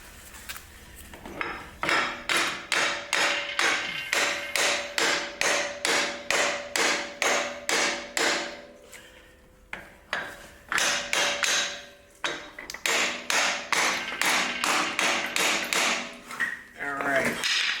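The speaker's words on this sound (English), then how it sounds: "And then here's my brass hammer." A brass hammer taps metal during axle seal work on a 1961 David Bradley, over and over in quick, steady bursts with a ringing tone, pausing briefly between runs of strikes.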